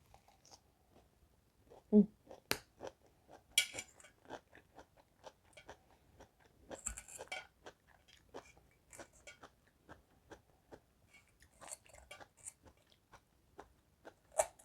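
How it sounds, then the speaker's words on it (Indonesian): Crisp, watery lettuce is chewed close to the mic in a long series of irregular crunchy bites and munches, quiet in between, with no talking. "Ini sayur selada enak banget ya. Dia tuh kandungan airnya banyak banget, tuh kriuk, kremus gitu."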